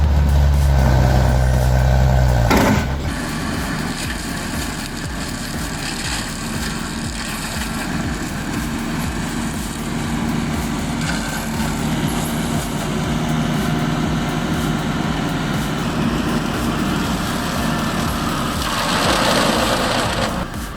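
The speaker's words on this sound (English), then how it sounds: "The engine tone doesn't scream, it growls steady like it's built to keep going all day" A heavy brush cutter engine runs with a steady, low growl that holds constant throughout, after a louder rumbling start.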